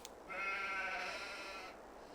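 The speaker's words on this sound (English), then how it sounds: "Then we come to these. These are the sheeps." A single sheep on a farm gives one drawn-out, wavering bleat lasting about a second and a half, close by but fairly quiet against a soft background, with no talk.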